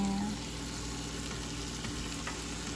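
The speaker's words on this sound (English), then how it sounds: "I'm just gonna toast the bread just like that." Slices of bread laid into a hot pan with the rest of a hotdog sandwich, sizzling and frying in a steady, dense hiss at close range with no talk over it.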